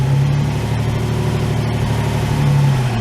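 A Ford Capri MK1 idles after sitting for eight years, a steady, full low burble close by that runs evenly and alone with no talk.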